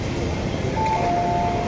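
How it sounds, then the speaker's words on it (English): Steady hum of a busy train station, with a continuous wash of crowd and machinery noise, a brief chime-like tone in the middle, and faint voices in the background. "so I'm waiting at the train station for my mum to arrive."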